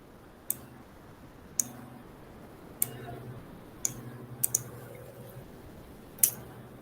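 Scissors cutting a fabric pattern piece for a neckline placket facing, a series of sharp separate snips spaced about a second apart, close and fairly faint against a quiet room.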